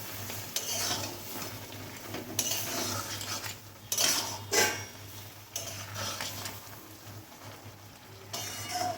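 A spoon stirs moong dal with bottle gourd leaves in a pan, repeated scraping strokes clinking against metal over a continuous low sizzle, close and moderately loud, with no talking.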